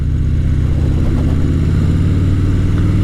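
A 2015 Harley-Davidson Dyna Street Bob rumbles loudly and steadily at riding speed with a deep, continuous low-pitched engine note and wind noise, heard up close.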